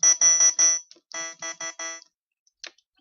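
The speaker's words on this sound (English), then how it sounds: "here is the filter resonance, and if we turn that way up, what it's going to do is it's going to accentuate various features" A synthesizer patch with the filter resonance turned way up gives bright, buzzy, alarm-like tones: a quick run of close bursts, a second group after a short gap, then one brief blip near the end, with no talking.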